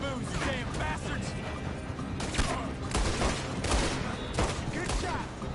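Gunfire in Red Dead Redemption 2, loud irregular bursts of shots and crashes in a chaotic firefight, with voices shouting over parts of it.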